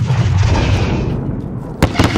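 Grenade explosion in Call of Duty Modern Warfare: a loud rumbling blast with a decaying low boom, followed by sharp cracks of gunfire near the end.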